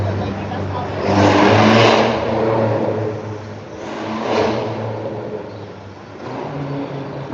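A New York City bus engine rumbles loudly and steadily, surging in two or three revving swells over a constant low drone, with people talking underneath.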